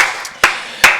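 Church congregation during a Wednesday worship service clapping in a few sharp, evenly spaced claps, loud and close over a low background hum.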